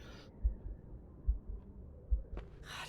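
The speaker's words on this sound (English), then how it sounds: "Heartbeat. Very faint." A faint, slow heartbeat thuds low and steady at about one beat per second beneath a soft hum in a quiet room in the horror game The Suicide of Rachel Foster.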